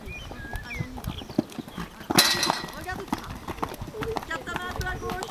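Horse hooves clip-clopping in a steady rhythm close by, heard under near-continuous talk in French from people standing with the chestnut horse.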